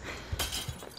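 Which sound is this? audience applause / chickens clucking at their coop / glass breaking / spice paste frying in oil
glass breaking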